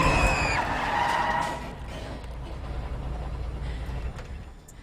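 A postman's car skids sharply on the road, with a high squeal at the start dropping into a low rumble that fades out.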